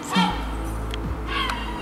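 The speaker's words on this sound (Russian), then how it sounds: "Ворон просит." A raven calls from a rooftop in Riga among gulls, giving a couple of short hoarse croaks close by over low background hum.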